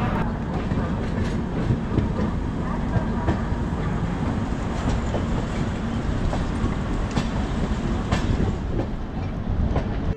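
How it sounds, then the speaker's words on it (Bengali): Howrah–New Jalpaiguri Shatabdi Express train running, with a steady loud rumble and rhythmic clickety-clack of wheels over rail joints throughout. "একেবারে পারফেক্ট টাইমে হাওড়া থেকে ছাড়লো ট্রেনটা।"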